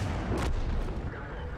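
Tank cannons fire in the video game World of Tanks: two sharp, booming blasts in quick succession over a low, rumbling background.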